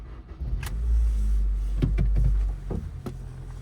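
A 2008 Honda Civic EX with 130,000 miles is started from the driver's seat: a brief starter whir, then a steady low engine rumble that swells, holds for about two seconds and settles to a quieter idle, with a few faint clicks and no talk.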